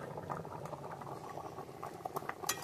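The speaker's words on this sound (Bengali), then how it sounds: "খুব সুন্দর ফুটছে" A potato and egg curry gravy (aloo dim kosha with cashew and poppy seed) bubbling in a pan, soft close popping and burbling at low volume with scattered small bursts.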